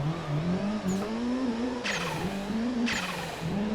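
A car drifting in the Assetto Corsa racing game, its engine droning at a steady pitch under three short bursts of tire squeal spaced about a second apart, with no talking.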